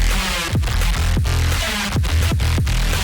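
Aggressive drum and bass at 174 BPM, dense and loud with punchy kicks, descending pitched bass hits and a harsh, noisy wall of distortion filling the whole clip, with no talking.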